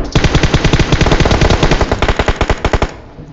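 Loud, close automatic gunfire in PUBG Mobile on the Sanhok map, a rapid continuous run of evenly spaced shots that stops abruptly near the end.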